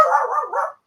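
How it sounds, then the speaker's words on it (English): A dog barks and yips in a quick run of sharp, loud barks close to the microphone for under a second, with no talk over it, during an early-morning live session building an Airfix 1/24 Spitfire Mk Vb model. "Sorry about the dog."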